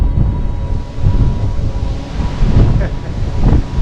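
Strong wind on the upper deck of the cruise ship MSC Seashore buffets the microphone in heavy, rumbling gusts, with a steady roar of air and distant water noise underneath.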